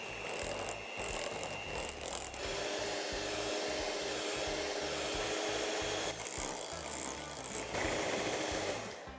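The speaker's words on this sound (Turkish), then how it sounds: "şantimizi ekledikten sonra iyice çırpıyoruz" An electric hand mixer whips cream with whipped cream powder for tiramisu. The motor gives a loud, steady whir with a rattling edge, running almost without a break for the whole stretch, and no one speaks.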